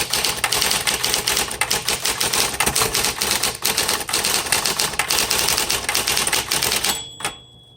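A 1960s Smith Corona Coronet electric typewriter clatters through rapid, continuous keystrokes close up, with an electric motor hum beneath, ending in a sharp carriage sound before quiet.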